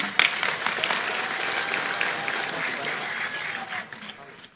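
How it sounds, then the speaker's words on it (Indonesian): Audience applause at a religious sermon gathering marking a boarding school's centenary, dense and continuous clapping that starts sharply and slowly fades toward the end, with voices mixed in. "Jenengan jangan ikut tepuk tangan saja."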